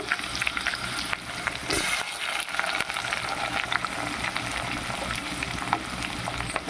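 Onion, ginger and curry leaves frying in a pan, a constant close crackling sizzle with occasional stirring touches and no speech over it.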